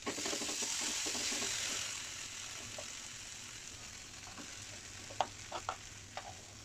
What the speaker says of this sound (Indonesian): Ini aku tumis bumbu sotonya sampai kandungan airnya itu berkurang